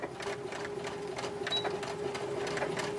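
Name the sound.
sewing machine stitching baby quilt fabric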